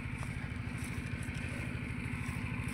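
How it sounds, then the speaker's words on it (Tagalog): A gasoline-powered water pump engine irrigating a corn field runs steadily up close, a continuous mid-pitched throbbing drone with a rapid regular pulse and no pauses. "Bali dalawang makina yung ginagamit natin."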